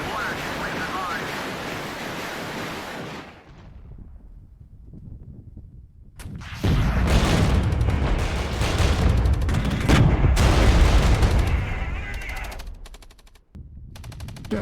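LARS rocket artillery launching in the Regiments wargame: a loud roaring, rushing barrage of rapid-fire rocket launches after a quieter windy stretch, with a brief voice at the start.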